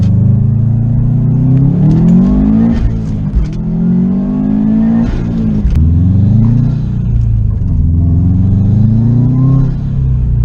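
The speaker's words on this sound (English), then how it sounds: "It sounds like these struts are about to fall through the car." A 2005 Subaru WRX STI on worn-out struts drives along with a loud, close engine drone that rises and dips through several gear changes, with occasional thumps and rattles from the suspension.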